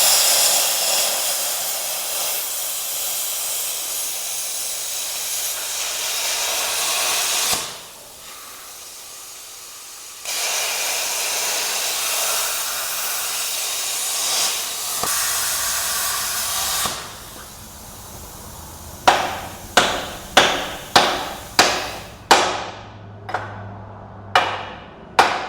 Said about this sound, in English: we are having to cut off the leaf spring holders on this axle and move them in on both sides